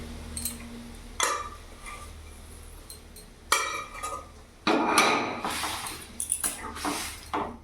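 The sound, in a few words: stirring boiled chickpea dal and banana stem in a pan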